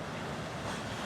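Rough sea waves and gusting wind on a stormy Danish coast form a continuous loud wash of surf and wind noise, with no voices.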